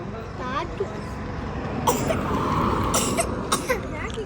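A few sharp coughs and throat-clearing bursts in a family home on the last day of the year, short and fairly close, mixed in with people chatting.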